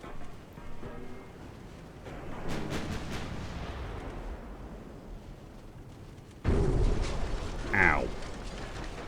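Torpedoes strike a ship in a naval combat video game, giving rumbling blasts and a sharp, loud burst near the end, with someone talking over the noise.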